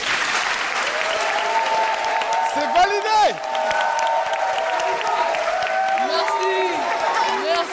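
A television studio audience applauds in a loud, steady wash of clapping, while a presenter speaks over it and a playful rising-and-falling sound effect cuts through near the middle.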